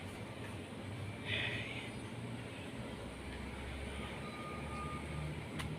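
A steady low rumble of vehicles passing on a quiet rural road, distant and fairly faint, with a few thin high tones over the background.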